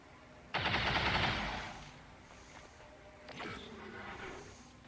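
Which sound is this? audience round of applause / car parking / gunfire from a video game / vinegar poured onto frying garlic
gunfire from a video game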